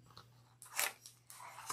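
Scissors snip through two layers of craft material for a Halloween project, giving a few quick, close, crisp crunching cuts in a quiet room.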